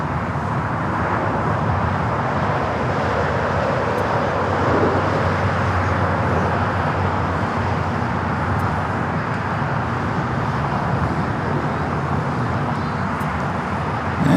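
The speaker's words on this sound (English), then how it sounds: "American Dreamliner heading to Tokyo Haneda, taking off on the north side" An American Airlines Boeing 787 Dreamliner bound for Tokyo Haneda takes off from the north side at LAX, a broad, steady jet roar that holds at a loud, even level throughout.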